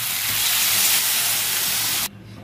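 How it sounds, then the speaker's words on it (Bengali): Loud, steady hissing sizzle as water is poured into a pan of frying potato and eggplant with spices, lasting about two seconds before cutting off abruptly into quiet. "এবার আমি একটু জল দিয়ে দেবো।"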